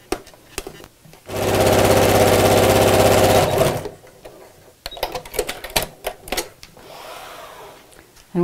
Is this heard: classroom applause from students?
no